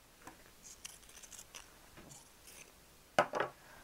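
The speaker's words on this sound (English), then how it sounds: "So I'm going to go ahead and cut off the yoke." Scissors cutting the yoke off a cotton dress shirt, with soft snipping and fabric rustles, then two louder, close crunching cuts near the end.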